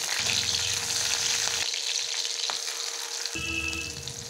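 Nigella seeds and green chilies fry in hot oil with a loud, continuous close-up sizzle that briefly drops away midway and then returns strongly.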